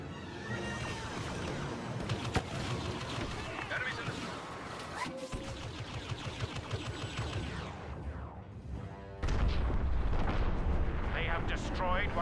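A video game explosive device detonates amid a dense, continuous barrage of booming blasts and crashing debris, the roar swelling louder near the end, with voices talking underneath.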